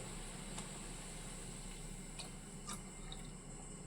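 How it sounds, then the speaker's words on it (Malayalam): Jaggery syrup poured into a boiling pan gives a faint, steady liquid pour with soft bubbling and a few light drips and clinks, with no voices. "ഇനി നമുക്ക് ഇതിലേക്ക് ഈ ശർക്കര പാനീയം ഒഴിക്കാം"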